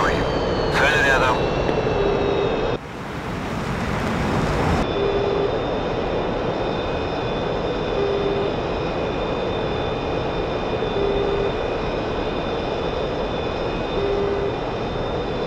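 Steady jet engine roar of a MiG-23ML in a flight simulator game, a continuous loud broadband drone with a faint tonal whine, broken by a brief burst of noise near the start and a short speech-like sound early on.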